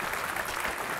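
Crowd noise at a Counter-Strike esports match, the ASUS ROG Summer 2014 event, swells in a dense, steady roar of cheering and applause filling the hall for the whole second.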